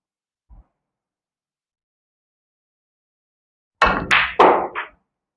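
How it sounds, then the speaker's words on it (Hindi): A snooker screw shot: a soft, faint knock of the cue on the ball, then after a pause a cluster of sharp, loud ball clacks in quick succession, alone in a quiet room. "तो अब हम इस शॉट को ट्राई करेंगे जस्ट फॉर योर सेक, और यहां से हम स्क्रू करेंगे"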